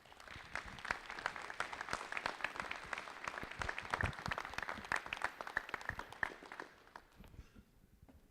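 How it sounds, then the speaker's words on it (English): An audience at a Charlottetown Islanders hockey event applauds the team's general manager, a lively burst of many hands clapping that carries on for several seconds and then thins out and fades near the end. "Give a nice round of applause for Grant Sonier"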